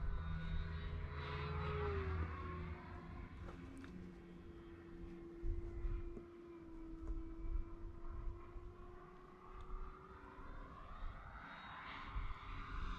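E-flite Focke-Wulf 190 RC model plane flying aileron rolls and loops, its motor giving a steady whining drone that swells and fades as it passes at a moderate distance, with no talking.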